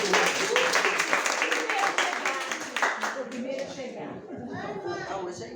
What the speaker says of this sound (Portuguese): Uma salva de palmas para Jacimar.